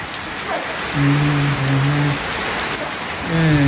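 The season's first monsoon rain pours down in a village, a loud, dense, steady hiss of drops on surfaces, close by, with a few brief tonal sounds mixed in and no speech.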